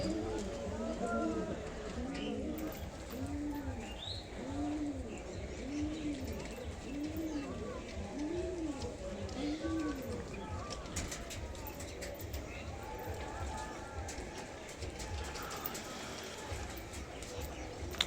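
Pigeons coo in a repeated, rhythmic series at morning feeding time, with light chirps and scattered pecking and shuffling around them and speech in the background.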